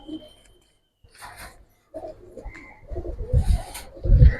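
Giribaz pigeons, among army, lalpatti, silver, khaki and pangkhi types, coo in a few low, broken bursts near the microphone, with rustling wing or body sounds and brief handling noises between.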